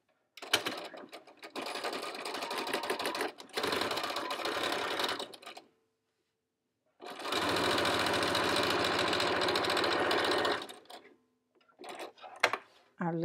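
A sewing machine stitches a knit button-front blouse in long, steady whirring runs of several seconds each, separated by short pauses and a few quick clicks near the end.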